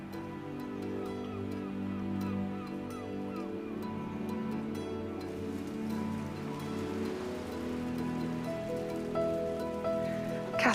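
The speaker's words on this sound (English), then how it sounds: "what made life marvelous for Frances was that it was raining" Steady rain falls over a North Devon cliffside village garden, a continuous patter under a busy mix of other sounds, with geese or fowl calling and honking intermittently and a sharper tone near the end.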